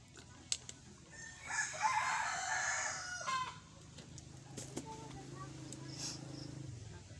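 A rooster crows loudly nearby in a long drawn-out call, with chickens clucking and other birds chirping in the background.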